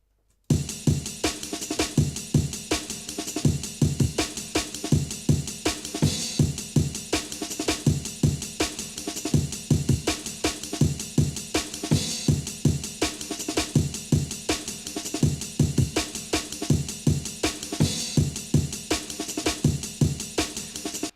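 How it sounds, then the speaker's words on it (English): Bass patch from the Vital wavetable synth playing over a reverb-soaked amen break, with crisp rapid drum hits and a low bass pulse looping steadily for about twenty seconds, loud and close with no talk. "But don't forget that the amen's also being sent to the reverb, so together they're going to sound like this."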